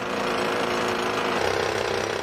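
Heavy drilling into the concrete cores of Ocean Tower, a dense, steady hammering grind with a rapid pulsing texture that holds unbroken, loud and close, with no voices.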